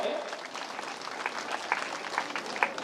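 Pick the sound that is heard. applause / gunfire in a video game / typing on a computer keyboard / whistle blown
applause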